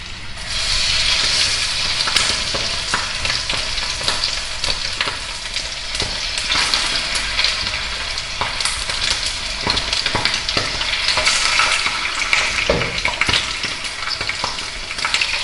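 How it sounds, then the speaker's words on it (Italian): Chicken pieces fry skin side down in hot oil in a pot, giving a steady, loud, close crackling sizzle with scattered pops that runs unbroken throughout. "Lo sfrigolio dovete sentirlo per tutto il tempo senza bruciarlo"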